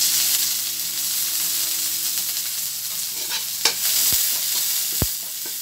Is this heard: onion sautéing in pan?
yes